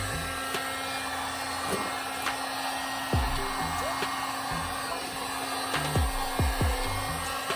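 A heat gun or hair dryer blows steadily while warming the reflectors on a 2020 Harley-Davidson Road Glide, a constant close airy roar with a few faint clicks and knocks underneath.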